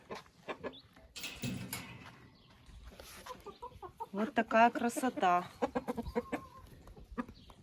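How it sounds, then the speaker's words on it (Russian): Faverolles rooster and hens cluck and murmur in a soft, irregular series, close by, with a person speaking quietly in between. "Здесь петушок и курочки фавероли."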